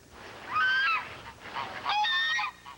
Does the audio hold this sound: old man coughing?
no